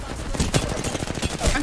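Rapid gunfire from an online shooter game, a dense run of sharp shots crackling in quick irregular bursts, fairly close and loud.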